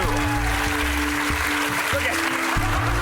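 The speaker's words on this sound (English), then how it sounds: "Big round of applause," A studio audience on a comedy show gives a big round of applause, a steady wash of clapping blended over low, sustained musical tones.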